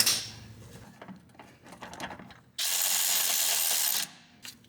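Wrench ratcheting while a shock absorber bolt on a Cadillac Escalade is released, heard as a string of short metallic clicks followed by a steady, louder burst of ratcheting close by, with no talking.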